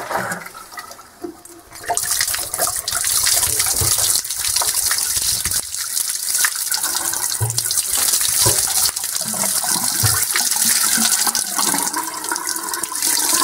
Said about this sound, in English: I think what I'm going to do is just fill it full of water first, slosh it around